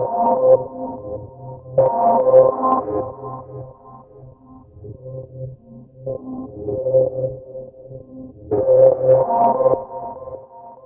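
A synth arpeggio pulses in repeating note patterns through a stereo delay with a quarter-note echo on the left, echoes trailing each phrase and swelling and fading in waves. No voices are present.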